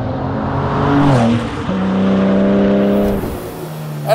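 A 750-horsepower carbon-bodied air-cooled Porsche prototype with a custom gearbox based on the 993 Turbo's G50 revs hard up close, its loud engine note climbing, dipping on a shift, then climbing again before easing off.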